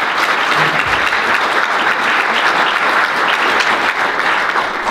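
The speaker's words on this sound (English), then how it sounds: "give these guys a round of applause because they've done a lot of good work" Dense, loud, sustained audience applause at a broadband summit for committee members, a continuous wash of many hands clapping at once.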